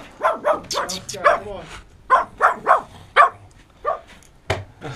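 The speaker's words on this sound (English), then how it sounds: "Ah, there is the dog." A dog barks repeatedly outdoors near a World War II bunker in Lerwick, Shetland, giving a series of loud, close barks and yips in an irregular rhythm.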